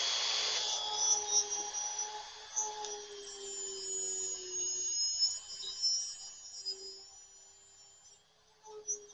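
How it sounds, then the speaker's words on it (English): A Dremel rotary tool with a router bit cuts a pickup cavity into a guitar body, a high, whining motor pitch that rises and dips as the bit bites into the wood, close and steady with no talking. "I'm continuing the pickup cavity routing. I'm trying a different bit in my Dremel tool."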